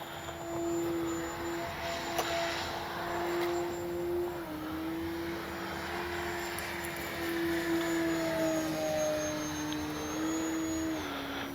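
An E-flite Cherokee RC airplane with an electric motor on a 4S battery flies past, giving a steady droning whine that rises and falls slightly in pitch as it moves through the air, continuous and moderately loud.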